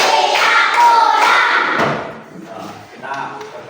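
A fifth-grade class claps hands in rhythm as a loud, thumping group burst for about two seconds, then drops to scattered quieter taps and murmurs.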